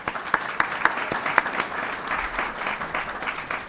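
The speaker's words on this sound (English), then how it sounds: "let's give them a big round of applause" Audience applause at a Seattle panel on Freeway Park improvements, steady dense clapping from a room of people with a few sharp louder claps standing out, held evenly throughout.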